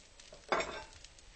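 Bread toasting on a very hot griddle, a short burst of sizzle and scraping rising briefly above a quiet background hiss, close and fairly soft.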